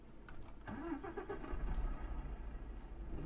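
Hyundai UXN truck engine in Euro Truck Simulator 2 cranks and starts, then settles into a steady, rumbling diesel idle with a low, continuous drone; no talking.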